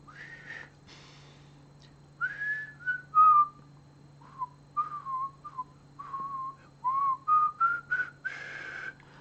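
Someone whistles a halting, wavering tune in short separate notes with breathy gaps, alone over a faint steady hum.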